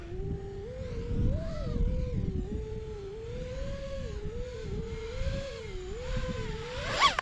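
Source One v5 quadcopter drone coming in to land over grass, its motors holding a steady droning whine whose pitch wavers up and down as the throttle shifts, loud and close throughout.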